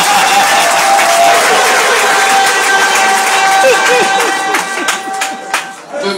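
A crowd at a welcoming ceremony for a sub-prefect in Roa applauds and cheers loudly and continuously, the clapping thinning toward the end, with voices and a few sharper sounds mixed in.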